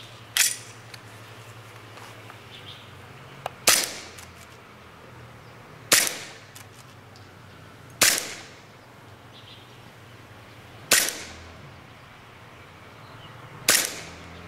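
WEG-18C gas blowback airsoft pistol with its original hop-up fired during a chronograph FPS test, five sharp, loud cracks spaced about two seconds apart, standing alone over a quiet room.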